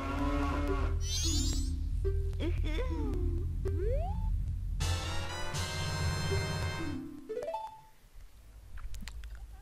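Two cows mooing in the video game Zelda Majora's Mask, low repeated moos mixed with game music and chimes, with a voice talking over them.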